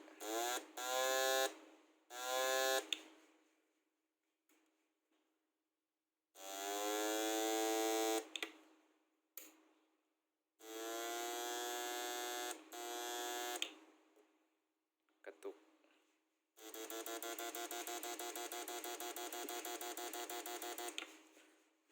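Loud electrical buzzing hum from a transformer in a metal casing, switching on and off in several bursts of varying length with silent gaps between.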